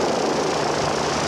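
A helicopter flying over the 2001 Roof of Africa motorcycle race in the mountains gives off a steady, continuous rotor and engine drone that fills the whole moment without a break.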